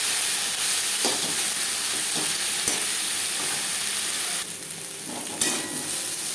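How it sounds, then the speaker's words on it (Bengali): Eggplant fries with spices in a pan, giving a steady, close sizzle with occasional scraping stirs and brief bursts of louder hissing. "মশলার সাথে তিন চার মিনিট বেগুন ভেজে নেওয়ার পর"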